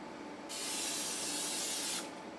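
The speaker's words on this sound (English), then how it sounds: "Let's spray this down. I got some butter spray." A can of butter spray hisses steadily and loudly for about a second and a half, then cuts off abruptly, with quiet room noise before and after.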